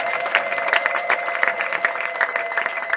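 Church congregation in Rwanda applauding, a brisk, uneven patter of many hands with individual claps poking out over a steady musical hum, no voices on top.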